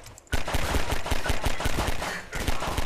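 Rapid automatic gunfire in Half-Life 2, a dense run of loud close shots that starts abruptly after a quiet moment, with a short dip before the firing resumes.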